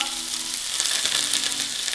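Salmon sizzles and fries loudly in a hot pan, a constant hissing crackle, close by with no talking.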